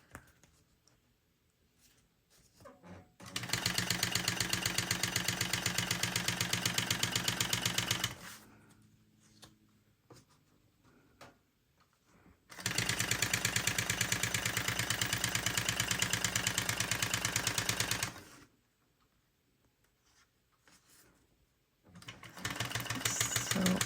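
A sewing machine stitching a quarter-inch quilt seam runs in two long, steady bursts of rapid mechanical whirring, separated by quiet pauses, with a third run starting at the end.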